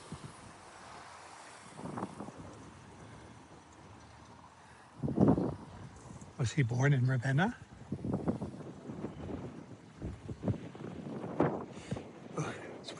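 Cold wind gusts buffet the microphone on a street in Ravenna, Italy, rumbling loudly in bursts while people talk and walk.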